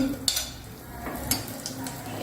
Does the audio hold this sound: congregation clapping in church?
no